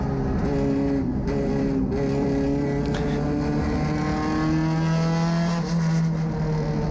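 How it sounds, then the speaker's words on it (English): A front-engine, front-wheel-drive mini stock race car revs on the Riverhead track, loud steady engine drone with rising and falling harmonic pitch as it passes close, other engines blending in behind. "When they heard my low revving car coming by, understeering"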